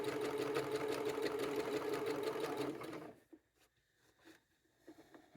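A sewing machine runs steadily while stitching a seam on a fabric tote bag, a fast rhythmic mechanical chatter for about three seconds, then it stops, leaving faint handling clicks.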